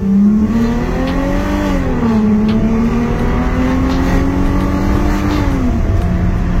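A Chrysler Crossfire with a 3.2-litre 218 hp V6, shifted manually, accelerates with the windows open. The engine note climbs and falls through the gears in a loud, continuous in-car drone, with no talking.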